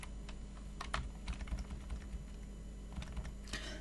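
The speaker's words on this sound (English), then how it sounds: "we type in browse, even though I spelled that wrong." Quiet typing on a computer keyboard: irregular bursts of light key clicks with short pauses between them, close by and alone, no voices.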